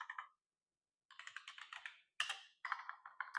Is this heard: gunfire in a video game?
no